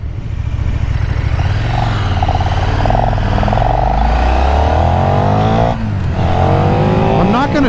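Engine of a 2024 KTM 1390 Super Duke R motorcycle pulling hard under acceleration, a loud continuous drone with rising and falling revs across several gear changes, a brief dip near the end before climbing again.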